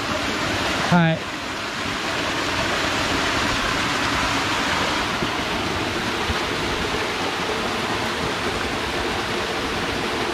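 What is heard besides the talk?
mountain stream and waterfall, Marutaki valley, Mount Kongo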